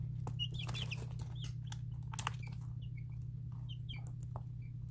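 Chickens cluck in short, scattered bursts over a steady low electrical hum, fairly faint and close, with no talking.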